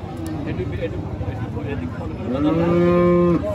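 A cow lets out one loud, close, drawn-out moo at the Monirampur cattle market, following crowd noise and voices talking.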